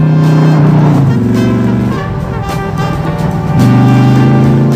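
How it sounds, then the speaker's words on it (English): A loud, deep Ford Mustang V8 engine bellows and revs, its pitch climbing and dropping in throaty surges, close and continuous with no talking. "The bellow of a V8 Ford Mustang."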